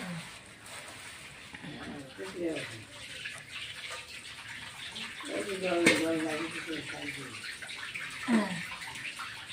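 Water poured and splashing into a basin holding fish, a steady gushing stream close by with a voice talking over it.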